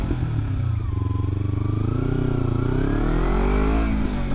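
An engine revs up close, its steady low rumble pitching upward as the throttle opens and holding a loud, continuous drone through the whole stretch.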